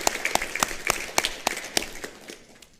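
A short round of applause at a criminal justice board meeting, a sparse group of distinct claps in an irregular rhythm, tapering off over a few seconds.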